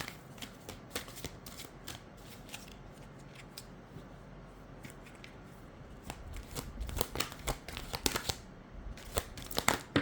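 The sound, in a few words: shuffling a deck of oracle cards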